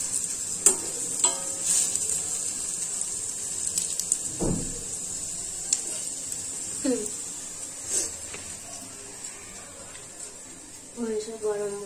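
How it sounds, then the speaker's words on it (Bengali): Pakoras frying in a pan, a steady sizzle running underneath with occasional stirring clinks and knocks, while a voice talks intermittently over it. "আমি একটু পকোড়াগুলো ভাজতে থাকি"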